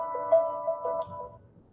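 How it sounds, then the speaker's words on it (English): A phone rings with an incoming call, a short melodic tone pattern of several repeated notes that fades out after about a second and a half, heard clearly with no talking over it. "Phone call. I don't need a phone call right now."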